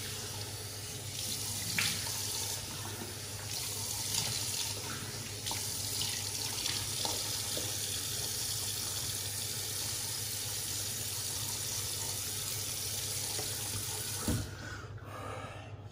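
Water runs steadily from a bathroom tap into a sink while a face is rinsed after a straight-razor shave, a continuous close splashing flow with a few brief changes and a sudden stop near the end.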